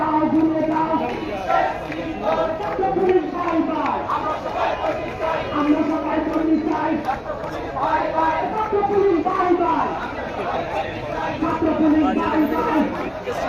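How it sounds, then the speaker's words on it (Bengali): Protesting students march and chant slogans together in rhythmic call-and-response. The massed voices are loud and sustained, with crowd chatter and a reporter speaking over them. "একটু তাদের স্লোগান শোনানোর চেষ্টা করছি"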